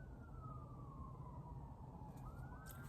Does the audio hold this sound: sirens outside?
yes